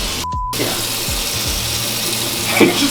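Hot water runs from a tap in a garage, a steady broadband rush that continues close and loud throughout, interrupted briefly at the start, with a few faint knocks underneath.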